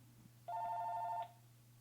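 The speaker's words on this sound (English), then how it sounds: "Sorry about that phone." A telephone rings once in a single sustained electronic tone burst of just under a second, fairly loud against a low steady hum, with no voices.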